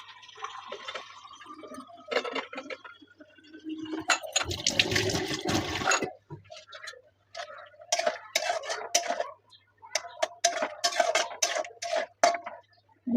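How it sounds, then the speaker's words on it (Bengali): Prawns tipped into a simmering potato curry in a home kitchen, a loud burst of splashing and sizzling mid-clip, surrounded by lighter clinks and stirring noises close by. "দেখো আলুগুলি সিদ্ধ হয়ে গেছে মোটামুটি, ঝোলটা একটু টেনে আসছে। এবার চিংড়ি মাছগুলি দিয়ে দেবো।"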